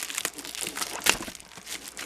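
Close crinkling and tearing of plastic packaging, a series of quick rustles with one sharper rip near the middle.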